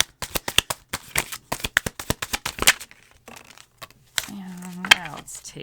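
Tarot cards being shuffled in quick riffling bursts of dense crisp flicks for nearly three seconds, then quieter handling, with someone speaking over the later part.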